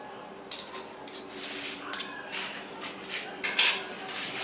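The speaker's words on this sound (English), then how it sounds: "I'm breaking up that tuna steak. It's easier with a fork." A fork breaking up a tuna steak for tuna bruschetta, heard as soft, scattered scrapes and light clicks of metal against a plate, close and fairly quiet, coming in short irregular bursts with no talking.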